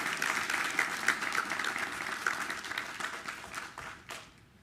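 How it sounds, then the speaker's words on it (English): Applause from attendees at a school board meeting, steady broadband clapping that fills the room and then thins out toward the end. "We're going to applaud."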